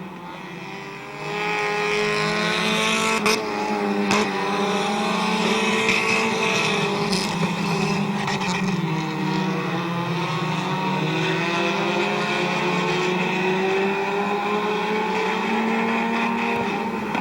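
Compact race cars roar continuously around the oval at Midvale Speedway, a dense, loud engine drone with shifting pitch as cars accelerate and pass, sustained throughout with no talk.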